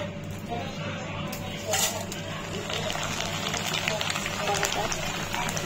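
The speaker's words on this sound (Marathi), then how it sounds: "तर तेल गरम झाल्यानंतर मका यामध्ये तळून घेते." Corn kernels fry in hot oil with a continuous crackling sizzle for snack mix, steady and close throughout.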